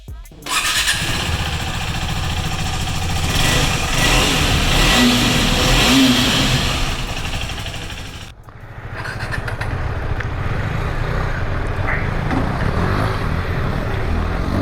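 A KTM 390 Adventure motorcycle engine starts and idles with a throaty exhaust note, revving steadily, then dropping briefly before settling back into a running idle.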